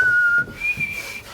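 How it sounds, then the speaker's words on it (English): A person whistles a sustained, clear tone that rises in pitch partway through and then holds steady, sounding near and fairly loud over a low background rumble. "keep whistling"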